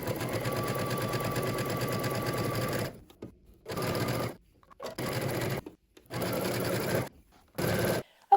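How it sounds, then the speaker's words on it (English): A sewing machine runs a narrow zigzag casing on stretchy mesh fabric for a dress, with one long continuous burst of stitching followed by four shorter runs separated by brief pauses, close and loud, with no talking. "I am gonna do my casing using a very narrow zigzag stitch"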